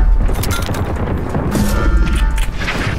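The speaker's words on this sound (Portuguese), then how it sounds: "Deixa eu jogar granada no portal." A grenade explodes in the tactical shooter Valorant, a loud close boom with crashing debris and rumbling aftermath lasting the whole stretch, no voices over it.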